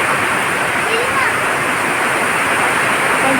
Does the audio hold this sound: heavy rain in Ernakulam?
yes